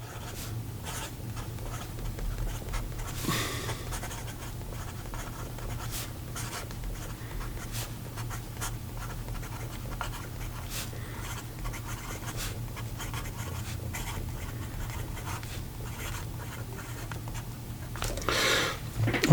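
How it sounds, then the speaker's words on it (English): Broad nib fountain pen scratching across paper, a continuous close-up stream of small strokes and scrapes for nearly twenty seconds over a low steady hum, with no voices. "So here we go with the rest of the writing sample."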